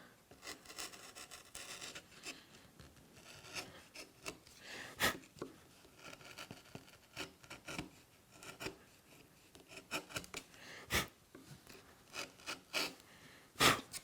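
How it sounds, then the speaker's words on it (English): A wood chisel pares a small dado in wood, making soft, irregular scraping and rasping strokes close up, with a few sharper scrapes standing out. "lean the chisel kind of one way or the other to remove a little bit more off one side"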